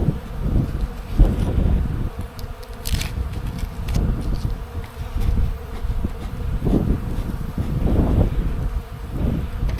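Honeybees in an opened hive during an early-season inspection, a continuous close swarm-like buzz with fluctuating drones, light rustling and handling noise mixed in.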